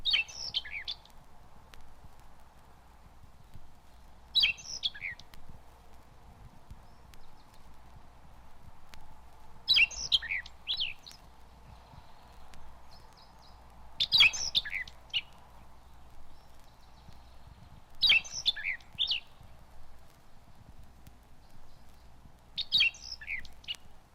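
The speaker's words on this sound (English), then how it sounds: "the song of an orange-billed nightingale thrush" Short, bright phrases from an orange-billed nightingale thrush in oak woodland undergrowth in Mexico, six separate bursts spaced a few seconds apart, with a steady low hum in the background.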